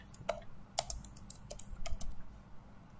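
Fingers tap out a file name on a computer keyboard, a quick irregular run of crisp close keystrokes with short pauses, heard alone in a quiet room.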